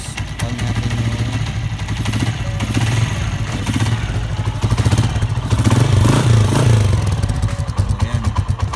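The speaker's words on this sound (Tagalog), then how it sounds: "kailangan lang nating paandar nito" A Honda TMX motorcycle engine runs after being started, with a steady loud mid-pitched putter and mechanical clatter, close by and alone for about nine seconds, rising slightly in revs near the middle.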